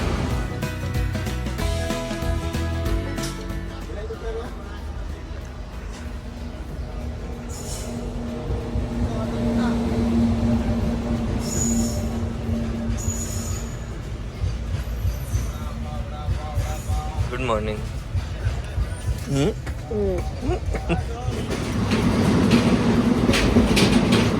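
A train rumbles and clatters steadily at Panvel railway station, with wheel noise and occasional squeals, faint voices in the background.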